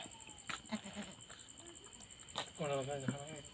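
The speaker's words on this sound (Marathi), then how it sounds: "आता येईल बघा आमची शेळी" A goat gives a wavering, quavering bleat near the end, at night, preceded by faint clicks and murmurs over a steady high electrical whine.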